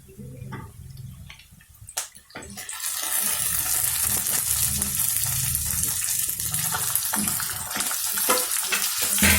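Chicken pieces fry with spices in a pan for Malabar chicken curry. A few clinks come first, then a loud, dense, steady sizzle rises and holds to the end, close and continuous with no talking.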